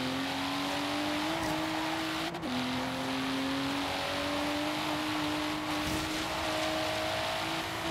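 A car engine accelerates in Forza Horizon 3, a steady, loud drone whose pitch climbs with brief drops at gear shifts over eight seconds, with no talk.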